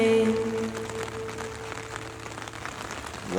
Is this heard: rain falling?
yes